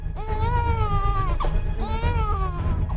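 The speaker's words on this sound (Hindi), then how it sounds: "एक नवजात के रोने की आवाज ने लोगों का ध्यान अपनी ओर खींच लिया।" A newborn baby cries in two long wailing bursts separated by a brief catch of breath, close and loud over a low rumbling background.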